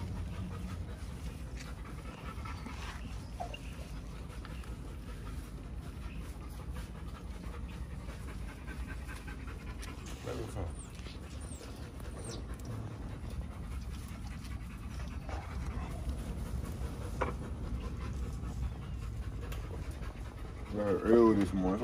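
XL Pit Bull dogs pant rapidly and continuously through an early-morning bath session, a steady breathy rhythm close by with a person talking over it.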